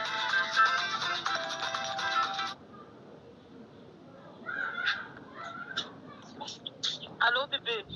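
A mobile phone rings with a bright repeating electronic melody for a couple of seconds, then stops as voices start talking close by.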